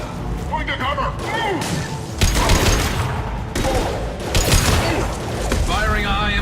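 Sci-fi shooter combat in Mass Effect 2, with dense bursts of gunfire and heavy impacts filling the scene, loud and chaotic, while a voice calls out over the firing.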